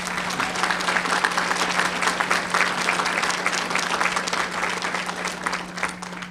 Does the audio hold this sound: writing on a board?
no